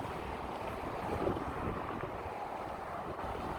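Wind blows outdoors, a steady low rumbling buffet with no voices and no distinct events.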